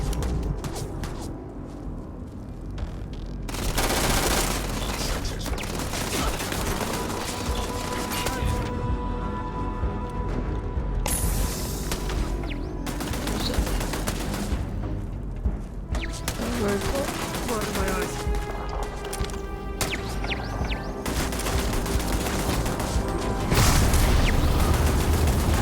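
Gunfire in the video game Starfield, repeated bursts of rapid shots and heavy booms across the scene, loud and close, with brief lulls and a voice talking at times.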